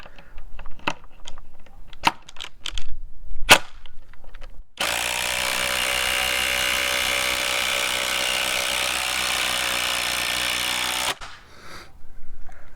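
A Ryobi P239 brushless impact driver on a 3 amp hour compact P195 battery drives a 4-inch lag bolt, a loud continuous hammering whir lasting about six seconds after some clicks and handling knocks, stopping abruptly.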